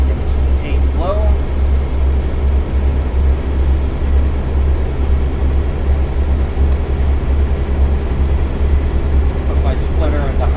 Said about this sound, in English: Clutch in, splitter into low, pull straight back into 8 low.